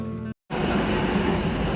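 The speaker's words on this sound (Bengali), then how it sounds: "local train" Steady rumbling local train noise at Srinagar station fills the clip after a brief dropout, a continuous broadband roar of a passing rail car close by.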